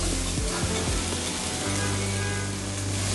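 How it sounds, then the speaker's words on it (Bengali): Mashed papaya bharta fries in a pan with a steady, close crackling sizzle, punctuated by a few low stirring knocks early on, with no voices. "আমি আরও কিছুক্ষণ ভেজে নিব।"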